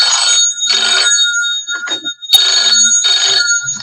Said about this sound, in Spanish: Perdón, que suena el teléfono.